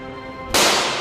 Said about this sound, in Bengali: আব্বা, গুলি হচ্ছে মনে হয় পিছনে।